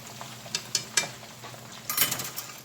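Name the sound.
stirring frozen fish frying in oil on stove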